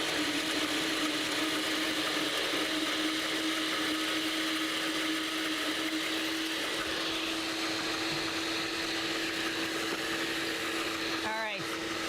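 A blender whirs steadily and loudly as very hot butter streams into egg yolks to emulsify a hollandaise, a constant motor drone with a brief pitch shift near the end.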